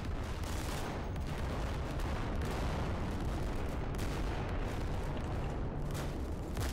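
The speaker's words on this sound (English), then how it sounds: "Bombing run." In the WWII shooter Day of Infamy, a bombing run over the D-Day beaches sets off a continuous roar of distant explosions and heavy gunfire. The rumbling barrage stays dense and loud throughout, with no voices.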